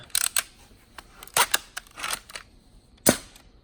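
A toy spitball launcher with a pistol grip fires several times in quick succession, each shot a sharp, faint snap or click, close by, with short pauses between bursts.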